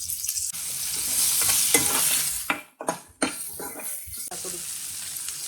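Onions and green chillies sizzle loudly in a hot pan for a paneer curry. A spoon scrapes and stirs them a few times, and the frying hiss carries on steadily throughout, close to the pan.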